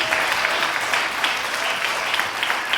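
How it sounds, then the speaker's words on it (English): Steady clapping from a live audience at an intimate music and poetry performance, dense and fairly loud, continuing evenly for a few seconds with no voices on top. "You started that applause"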